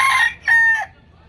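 A rooster crows at a Saturday-and-Sunday pet and poultry market in Malabon, giving a loud close crow with a pause and a second rising call, then fading into quiet background murmur.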